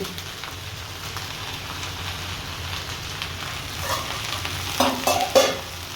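Fried prawns dropped into tomato masala in a pan for an Odia poi chingudi recipe, giving a steady low sizzle with stirring clatter and a few louder bursts near the end.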